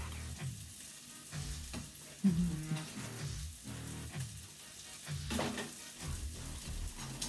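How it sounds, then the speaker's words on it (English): Food sizzles and fizzes steadily in a pan, a soft crackling hiss in the background with occasional faint clinks. "You can hear it sizzling in the background."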